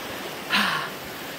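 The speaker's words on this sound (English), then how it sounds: "We're going up along the boiling river." Hot water of a boiling river near a volcano flows with a steady broadband hiss that swells briefly into a louder gush before settling back.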